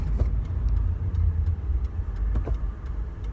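Car engine rumbling steadily at low pitch as the car rolls down a street, with a few faint clicks and knocks over the drone and no talking.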